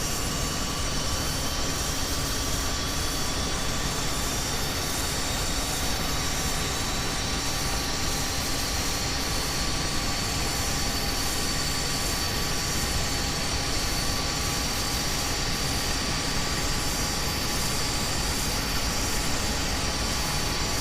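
Tornado GR1 jet engines running during a cold-and-dark start in MSFS 2024, a steady loud broadband roar with a high whine that rises slowly, continuous and without talk.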